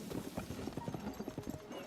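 Horse hooves clip-clop in a quick, even rhythm in the video game Dark Souls Remastered, fairly close and steady over a soft background.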